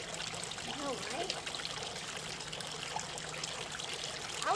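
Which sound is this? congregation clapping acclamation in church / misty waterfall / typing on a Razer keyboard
misty waterfall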